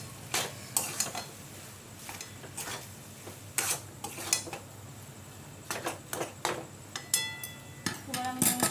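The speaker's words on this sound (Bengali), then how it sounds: "আদা রসুন নুন হলুদের সাথে ভালো করে মিশিয়ে নেবো আলুটাকে।" Potato being stirred in a pan with ginger, garlic, salt and turmeric, giving scraping and clinking utensil strokes with a soft sizzle underneath as a voice talks.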